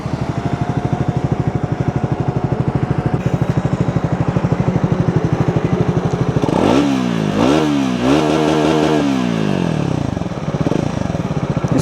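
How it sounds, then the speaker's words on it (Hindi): A Triumph Speed 400 motorcycle idles with a steady thumping single-cylinder exhaust beat, then is blipped in several sharp revs that rise and fall before settling back, loud and close. "मैं आपको इसका एग्जॉस्ट नोट भी सुनाना चाहूँगा जो बहुत ही ज़्यादा खूबसूरत है।"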